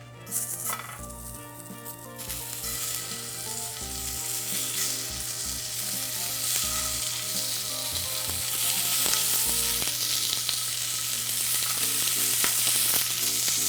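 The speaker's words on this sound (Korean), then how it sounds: "우선은 처음에 한번 달궈 놓고 불을 굉장히 낮춰 놓은 상황에서 구우셔도 이제는 충분히 고기가 익을 수 있는 조건이 되었습니다" A whole slab of pork belly grills in a hot pan turned down to low heat, giving a steady broadband sizzle that holds for the full stretch, close and even, with low tonal hum underneath and no talking.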